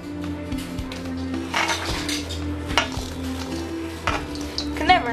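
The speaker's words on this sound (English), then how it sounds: "Now I'm just coating our apples in the flour and other ingredients that we have in here." Apples coated with flour in a mixing bowl, a utensil stirring with repeated scraping strokes and light clinks against the bowl, close and steady with no talking.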